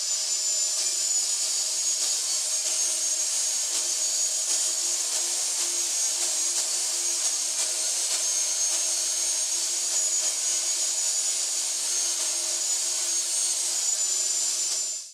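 A power tool cutting a 10-degree bevel along a reclaimed wood transition strip, one loud, steady, high-pitched whine that holds unbroken and close for the whole stretch before stopping abruptly at the end.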